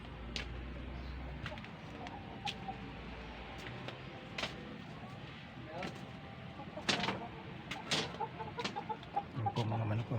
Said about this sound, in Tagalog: Ano po mga manok ko.